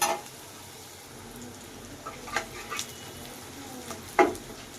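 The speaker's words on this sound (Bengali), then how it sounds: "দিয়ে দেবো করলাগুলো এতে একটু নেড়েচেড়ে মিক্স করে দিলাম" Bitter gourd and onions are stirred as they fry in a pan, a soft continuous sizzle broken by several scraping strokes of the spoon, close and with no voices.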